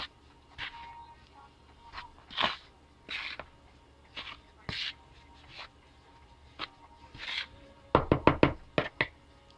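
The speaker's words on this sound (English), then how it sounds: "Simply go ahead and mix everything together. Mix it really thoroughly." Doughnut batter for Ghana drop-in doughnuts is mixed by hand in a bowl, with scattered thumps and knocks of the spoon against the bowl that end in a fast run of rhythmic beats.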